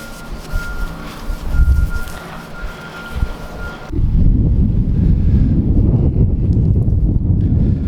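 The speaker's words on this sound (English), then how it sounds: "it's a really windy day" Strong wind buffets the microphone outdoors while deer hunting, with a steady low roar that grows louder and rougher halfway through; no voices.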